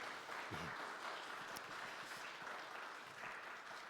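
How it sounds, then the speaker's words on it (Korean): A standing church congregation applauds to welcome a visiting family during Sunday worship, a warm, steady wash of many hands clapping, fairly soft and distant, with a faint voice briefly underneath. "함께 박수로 환영해 주시죠."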